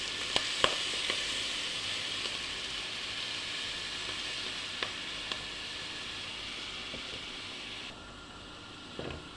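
Steady sizzle of mushrooms frying in a pan as cooking cream is poured in, a continuous hiss with a few soft clicks and stirring knocks, fairly close and without talk.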